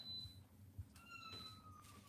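A cat meows indoors, a short high-pitched cry with a sustained tonal wail over a low background hum, fairly faint and with no talk.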